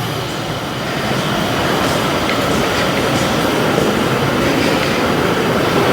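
A train rumbles steadily past at close range in Malaysia, a loud continuous roar with faint rhythmic clatter of wheels on rails and no voices.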